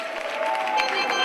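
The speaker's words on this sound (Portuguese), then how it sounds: "Batam palmas para a senhora Alia!" Guests at a church wedding ceremony in South Africa break into brief, dense clapping, a short burst of steady applause in a reverberant hall.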